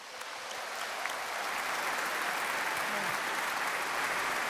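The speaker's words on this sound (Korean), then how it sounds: "여러분, 저분들을 위해서 박수." Seminar audience claps together in sustained, dense applause, steady and fairly loud throughout as the crowd honors people on stage.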